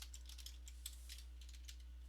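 Rapid, irregular clicking of keys on a computer keyboard during live coding, quiet and close, with a steady low hum underneath and no talking.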